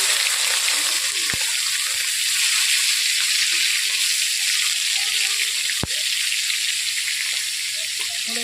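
A paste of onion, tomato, ginger and garlic fries with spices for a patal posto dish, giving a steady, even sizzle throughout, broken by two sharp clicks of a utensil.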